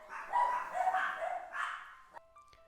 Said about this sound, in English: The dogs went crazy.